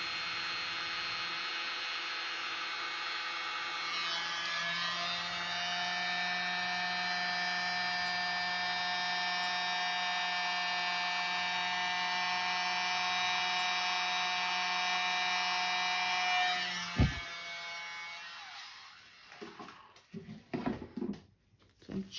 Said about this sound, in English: it's just as easy to use the little blower